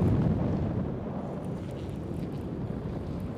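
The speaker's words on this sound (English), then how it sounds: "that wind's getting strong" Strong wind gusting over open water while fishing from a boat, a dense, continuous rumbling roar buffeting the microphone, loudest at the start and then holding steady, with no voices.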